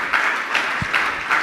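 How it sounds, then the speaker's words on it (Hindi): Audience clapping during a Jain religious discourse session, short rhythmic bursts of hands in a hall, moderately loud and brief. "तालियां तो बजाइए आप।"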